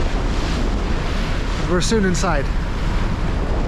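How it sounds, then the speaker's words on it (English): Sea waves and wind roar steadily around a sailboat off the Norwegian coast in stormy following seas, a constant loud rush under a brief spoken remark. "It's great with some winds and the sail again and some waves."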